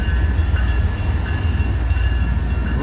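A commuter train on the Haverhill line rumbles past, loud and close, a continuous heavy low roar with faint rhythmic clatter throughout.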